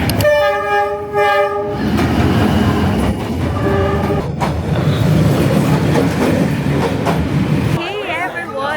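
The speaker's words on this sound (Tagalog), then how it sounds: "kakadaan lang ng train and saktong-sakto 8:55 yung train dumaan" Train rolling past close by in Hanoi, with a loud multi-tone horn blast at the start, rumbling wheels and clatter throughout, a second shorter horn midway, and voices talking over the din.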